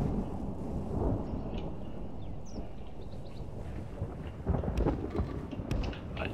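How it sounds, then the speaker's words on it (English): Thunder and rain in the video game Medieval II: Total War make a low, continuous rumble under a steady wash of rainfall, with a heavier swell of thunder near the end and a few faint high chirps above it. "I absolutely love thunder"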